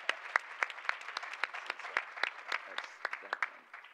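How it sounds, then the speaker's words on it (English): A small conference audience claps for Josh during a panel on millennial leaders, a sparse, fairly quiet patter of distinct individual claps over several seconds. "So can we give Josh a round of applause?"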